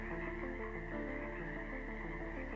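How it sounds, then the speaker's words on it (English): Frogs croak in a swamp at night, a dense steady chorus of rhythmic, overlapping calls at even volume throughout. "As night fell, the swamp was filled with the sound of frogs."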